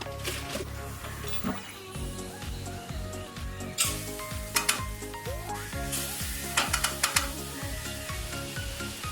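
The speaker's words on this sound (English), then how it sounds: "Then dry roast them on a low heat until all moisture is removed." Urad dal and raw rice dry roasting in a pan over low heat, a rhythmic scraping and rattling of grains being stirred with faint sizzling underneath, no talking.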